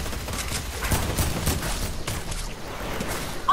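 Rapid gunfire from a weapon in Fortnite, a steady stream of sharp shots packed close together for several seconds, loud and near with no talking over it.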